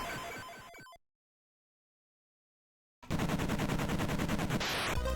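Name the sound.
explosions and gunfire in the video game Esper Dream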